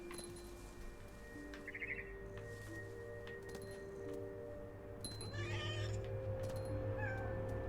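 A cat meows within a video game, heard as a brief mid-pitched call that rises above a steady hum of game music and ambience, with more faint chirps later on.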